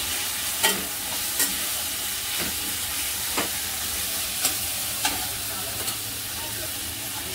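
Dal khichdi frying in a pan as ground coriander and cumin powder are stirred in, a steady loud sizzle with periodic sharp spoon clicks against the pan, close and without talk.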